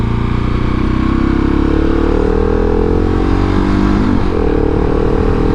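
A 2019 KTM 690 SMCR motorcycle on the road, its single-cylinder engine droning loud and steady up close, pitch rising and falling slightly as it is ridden, with no talking.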